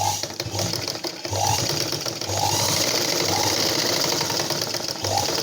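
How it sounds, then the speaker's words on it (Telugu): A sewing machine runs continuously while stitching a blouse, producing a loud, close motor hum with a steady mechanical chatter and occasional faint squeaks, with no talk over it. "ఒక 4 ఇంచెస్ ఉండే విధంగా నేను స్టిచ్చింగ్ చేస్తున్నాను"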